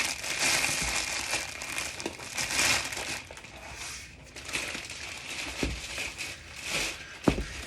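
Crinkly plastic wrapping on a rolled memory foam mattress rustles and crackles in continuous bursts with a few sharper crunches as it is handled and turned, close and loud.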